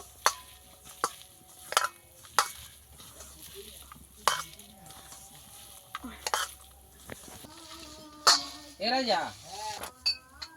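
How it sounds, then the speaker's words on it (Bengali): Drumstick flowers are mixed and mashed by hand with a little water in a bowl. Soft squelching and mixing is broken by sharp clinks and taps against the vessel, with a voice talking faintly underneath. "এইভাবে সব কিছু মিশিয়ে নিয়েছি ফুলগুলোকে ভালো করে চটকে দিয়েছি"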